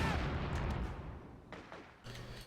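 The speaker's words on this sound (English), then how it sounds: "Another rifle grenade from Sage. He's just spamming those things out at the moment." Rifle grenades fire in a strategy video game: a few dull, muffled bursts land in quick succession over a steady rumble of battle ambience.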